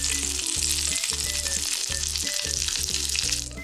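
Frozen, pre-soaked French toast fries gently over low heat in a pan, a continuous close sizzle crackling with small pops throughout.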